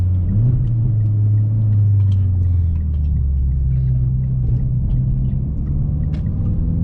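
A Mitsubishi Evo X moves through heavy traffic, its steady low engine rumble and road drone constant and close throughout, with no voices over it.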